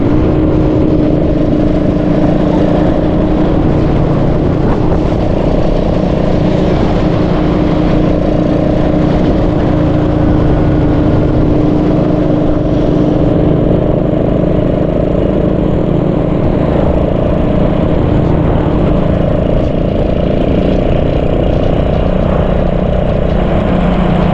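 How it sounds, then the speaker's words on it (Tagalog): A slow motorcycle engine drones steadily and loudly while riding, with a constant low rumble and wind noise throughout and no talk. "Mabagal kasi ito motor natin."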